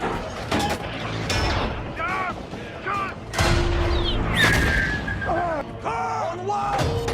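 Tank cannons fire in a Panzer versus Sherman video game battle, with several heavy booms and crashes spread through the scene under loud shouted voices.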